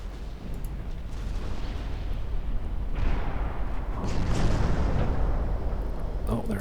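Heavy 9-inch naval gunfire from warships in the Ultimate Admiral Dreadnoughts naval battle game, heard as a dense, sustained rumble of booming blasts that swells toward the middle and end, with a voice talking over it.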